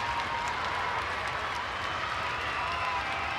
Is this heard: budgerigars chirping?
no